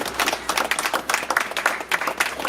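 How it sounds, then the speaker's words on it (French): Applause from guests at a customary wedding in Bacongo, welcoming a team present before them; dense, steady clapping from a small crowd, fairly close, filling the whole moment without talk. "On les applaudit s'il vous plaît."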